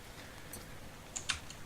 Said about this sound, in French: quand t'appuies sur K sur ton clavier